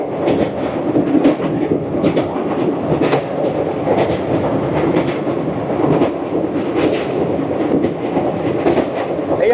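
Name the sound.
Paharia Express train crossing the Haldi river bridge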